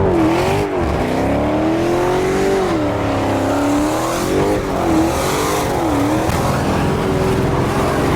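A Hellcat's engine roars loudly and continuously while the tires spin, the revs rising and falling in waves during a long burnout.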